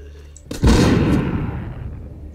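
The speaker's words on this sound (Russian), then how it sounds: "Сейчас будет показываться фейерверк." Fireworks going off in the zombie video game The Walking Zombie 2: a single loud boom bursts in after a quiet moment and rumbles and crackles away over the next two seconds.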